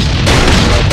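A loud, sustained blast from bombs blowing open a structure in the survival game Last Island of Survival, a broad roaring rumble lasting the full second with no talk over it.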